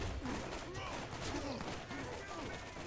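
Gun fired in short manual bursts in Borderlands Game of the Year Edition, with rapid repeated shots heard fairly faintly in quick clusters across about three seconds, with someone talking over the gunfire.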